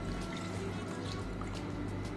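Water is poured into a moong dal mixture for Tirunelveli sodhi kuzhambu, a faint, steady close-up trickle and gurgle of liquid lasting a couple of seconds, with no voice.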